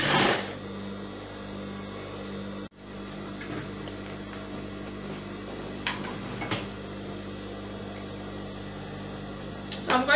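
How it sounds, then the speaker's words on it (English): A domestic sewing machine runs steadily while stitching a flounce blouse, a continuous close mechanical whir with a brief pause near three seconds and a few small clicks toward the end. "And then I'm going to start stitching."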